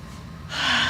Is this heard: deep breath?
yes